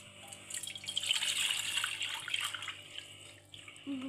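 Cold water pours steadily from a clay pot, a soft close splashing stream that tapers off near the end.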